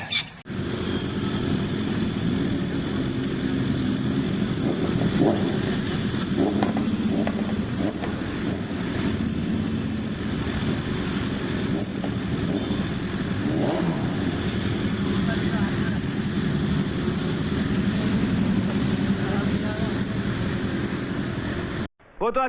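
A steady roar of many motorcycle and vehicle engines at a crowded public gathering, continuous and fairly loud, with voices mixed into the din throughout.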